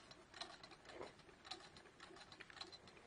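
An antique sewing machine is turned slowly by hand, giving a faint, soft run of light mechanical ticks and whirs at an uneven pace, quiet and close with no speech.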